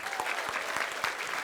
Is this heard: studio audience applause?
yes